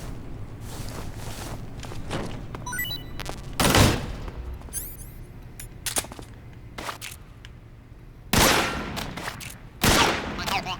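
Gunfire in Metal Gear Solid 3: Snake Eater, sharp loud shots in several separate bursts, with thin ringing ricochet whines and small clatters and footsteps between them.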